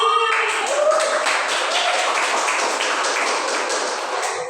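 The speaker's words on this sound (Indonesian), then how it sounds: "tepuk tangan dong buat Tati." Classroom applause during a microteaching lesson, a steady patter of students clapping that holds evenly for several seconds, close and moderately loud.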